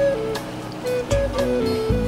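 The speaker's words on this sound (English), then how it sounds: "And then it's still bubbling in the hot oil" Fry bread dough bubbles in hot oil, a steady close sizzling hiss with scattered crackles and pops throughout.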